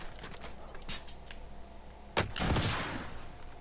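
Gunshots and heavy blasts ring out in a Warzone firefight, a few sharp cracks followed by a louder explosive boom with a rumbling tail, moderately distant.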